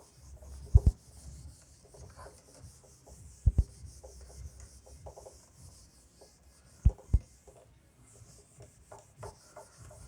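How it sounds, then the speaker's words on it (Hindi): A board being wiped clean of writing in a classroom, soft scattered rubbing strokes with a few sharp knocks, close and fairly quiet with no voice over it. "इसको रब कर देता हूं मैं।"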